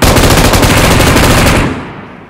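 Rapid automatic gunfire in PUBG Mobile, a loud continuous burst of close shots lasting over a second before cutting off into a fading echo.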